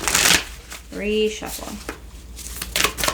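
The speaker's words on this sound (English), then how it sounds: "They're telling me reshuffle." Tarot cards are shuffled up close in quick riffling bursts at the start and end, while someone talks in between.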